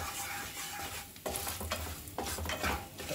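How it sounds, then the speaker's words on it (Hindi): A spoon stirs a coriander and red chilli spice mixture sizzling in a pan for Mughlai dum aloo, with scraping strokes and bursts of frying hiss coming close and uneven. "सब चीज़ों को अच्छे से मिक्स करेंगे।"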